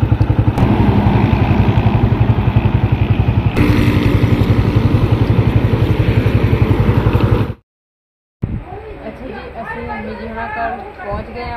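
A motorcycle engine putters steadily with a close, rhythmic thrum while people talk over it. It cuts out briefly to near silence, then the talk resumes.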